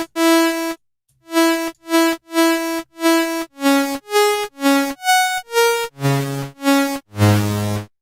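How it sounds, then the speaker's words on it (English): Short bursts of buzzy synthesizer saw wave with harsh aliasing noise, played as separate stabs at shifting pitches in a drum and bass production session, loud and close with brief gaps, no talking. "that kind of janky noise you're hearing, and that's a crap ton of aliasing"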